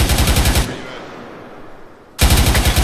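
Rapid, loud bursts of automatic gunfire in the military video game ARMA 3, one sustained burst, a short pause with faint background noise, then a second burst.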